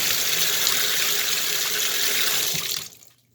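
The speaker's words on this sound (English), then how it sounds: "Let's get some water in there." Water pouring steadily into a shower drain, a loud, close gush that runs for a few seconds and then cuts off abruptly.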